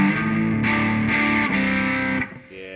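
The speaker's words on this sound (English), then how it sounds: "I don't know what this thrash setting is like." Distorted electric guitar through the thrash setting of a Peavey Studio Pro 112 Silver Stripe amp, a scooped, saturated chord sustained loudly with a few restrikes before it is cut off.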